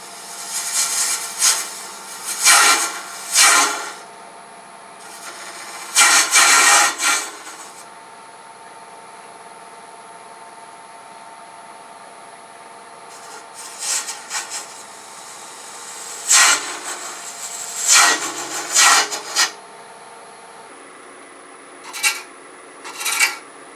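Carbide tool cutting Corian on a wood lathe: repeated loud scraping, rasping bursts of a few seconds each, separated by the steady hum of the spinning lathe, with no talk.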